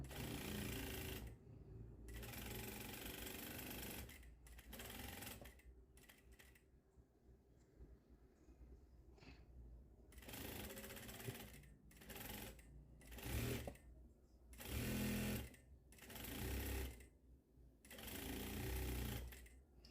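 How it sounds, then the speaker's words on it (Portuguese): Bursts of rapid mechanical stitching from a home sewing machine sewing fabric for a cropped top start and stop repeatedly, fairly close, with short pauses between runs and no talk over it. "Pego a minha máquina e costuro com 1 centímetro"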